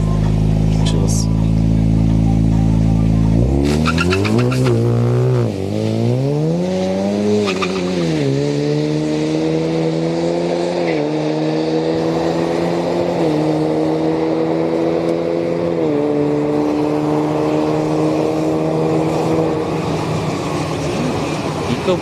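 An EcoBoost Mustang drag racing on street night at Orlando Speed World, engine roaring loud and close as it launches, then rising and falling through gear changes in a sustained high-revving pull, with voices talking over it.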